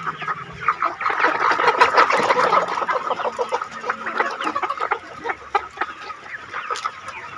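Young hens on a small Isan farm cluck and chatter busily up close. Overlapping calls come in uneven bursts throughout, with a faint crow in the mix.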